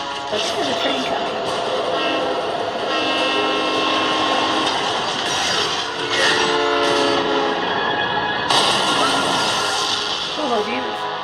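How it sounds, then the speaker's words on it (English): An approaching train in a Mandalorian scene, a steady loud rumble with tonal horn-like blasts layered on top, building toward the end, with voices occasionally mixed in. "Let's hear the train coming."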